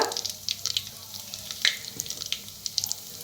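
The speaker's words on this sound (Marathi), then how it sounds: "तेल चांगलं गरम झालंय ज्या टाकल्या मोहरी" Mustard seeds sizzle in hot oil. Quick, close crackles and sharp little pops keep coming over a faint frying hiss.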